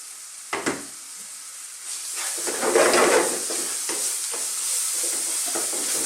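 Sliced red onion and garlic ginger paste hit hot oil in a pan, hissing and sizzling steadily, with a louder burst of frying partway through and a few clinks of stirring, close up with no talk.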